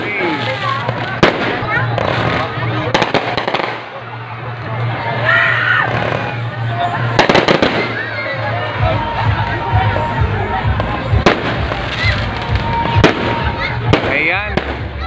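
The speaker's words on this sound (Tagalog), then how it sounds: "ang fireworks." Fireworks bursting at a town's founding anniversary lights-on ceremony, sharp cracks and pops scattered over a steady crowd hubbub, with people talking nearby.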